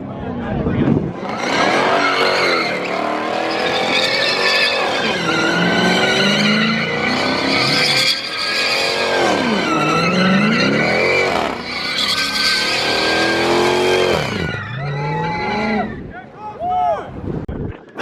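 A Nissan GT-R with a flamethrower setup revs hard at a rev battle, its engine wailing up and down in repeated loud sweeping pulls, close and continuous, with excited voices shouting over the screaming revs.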